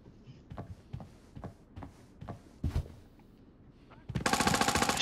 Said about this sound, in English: Shots, shots, shots.